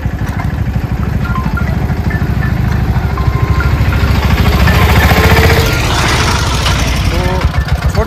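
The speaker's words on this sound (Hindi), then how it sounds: "छोटा ही ट्रैक्टर छोटी ही ट्रेली" A small tractor pulling a small trailer on a broken road, its engine chugging loudly and close with a steady low rhythmic thump and rattling vibration throughout, swelling slightly midway before settling.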